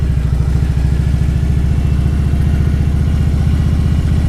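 A motorcycle ridden through a park, its engine giving a loud, steady low rumble with a rapid pulsing throb, heard close up throughout with no talk.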